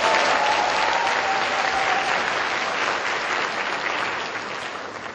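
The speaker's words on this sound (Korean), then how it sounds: "우리 하재경 사장한테 박수 한 번만 주세요" An audience at a presentation event claps steadily for a company president. The applause stays full and even and fades only slightly toward the end.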